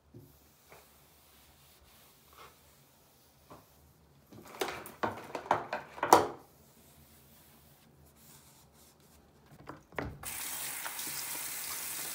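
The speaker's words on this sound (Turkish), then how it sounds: "Neden tuvaletin lavabosunda bulaşık yıkadın?" Tap water runs into a dormitory bathroom sink while dishes are washed, with soft scattered clinks and rubbing, a louder splashing stretch midway, then a steady hiss of running water near the end.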